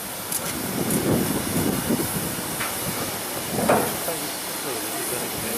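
Steam hiss from a Luxembourg state-railway locomotive equivalent to the German class 42, standing at a turntable during a Dresden steam locomotive gathering; a steady, moderately loud hiss with brief bursts and faint talk in the background.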